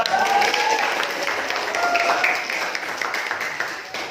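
Applause from a classroom of students for a classmate who answered a Quran verse question, steady clapping filling the room for about four seconds before easing slightly toward the end.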